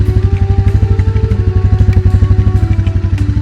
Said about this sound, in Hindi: तभी तेज आवाज वाली बाइक रुकी।